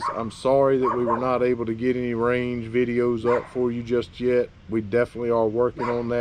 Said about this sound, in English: Sorry about the dogs yakking over there.